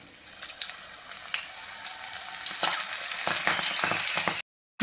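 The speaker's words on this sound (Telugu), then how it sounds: "ఆయిల్ పోసేసుకుందాం. ఆయిల్ వేడెక్కాలి. Crispy corn వేసేసుకుందామండి." Crispy sweet corn frying in hot oil, with a bright, continuous hiss and crackle interrupted by several spatula scrapes, ending with a brief cut to silence.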